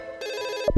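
Telephone ringing in a Cantonese-dubbed Boonie Bears cartoon: a single bright electronic trill starts abruptly after a brief quiet hum, rings loud and close for about half a second, then cuts off under a short burst of sound.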